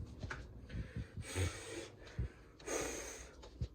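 A person breathes close to the microphone, with several distinct inhales and exhales, some snort-like, separated by quiet gaps.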